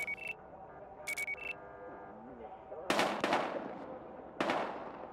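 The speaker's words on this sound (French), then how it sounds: "on a des coups de feu, on attaque" Gunfire in the video game Battlefield Hardline, several sharp broadband bursts of shots in the second half, preceded by brief electronic beeps, with no speech.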